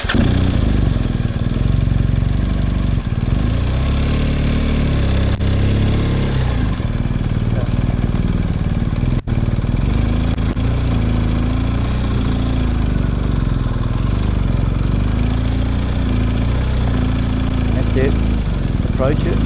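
A BMW 1250 GSA Rallye X motorcycle, about 200 kilos with the rider aboard, is ridden over a trials course. The close engine burbles low with constant small throttle changes, and someone talks over it throughout.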